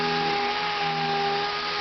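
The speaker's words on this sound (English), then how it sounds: "what we're doing is we're sanding it all out" A power sander works over the fiberglass top of a 1978 vehicle under restoration, giving a loud, steady motor whine with a constant grinding hiss that holds unbroken throughout.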